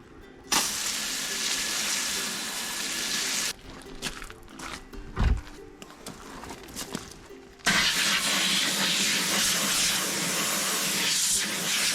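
High-pressure water spray rinsing the wheel rim of an 1987 Jeep Wrangler, a loud broad hiss that cuts off, gives way to sputtering bursts and a thump, then resumes steady and close.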